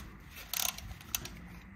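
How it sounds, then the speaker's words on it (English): A ratchet being reversed on a brake piston tool during front brake pad work on a Mitsubishi Lancer: a quick burst of five or six close clicks, followed by a single sharper click a moment later, otherwise quiet. "Now I reverse the ratchet and remove the tool."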